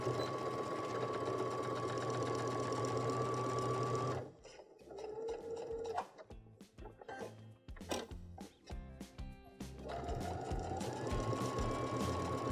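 A Baby Lock sewing machine fitted with a garment maker foot stitches in steady runs, pausing briefly in the middle before starting up again, close and clear.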